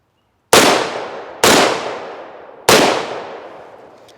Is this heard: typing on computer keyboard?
no